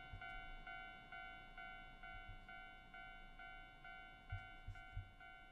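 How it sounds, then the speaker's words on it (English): A train in the video game Train Drive ATS 2 approaches with a steady rhythmic ringing, like a crossing bell, over low rumbling and a few clanks, all quite faint. "There's a train coming."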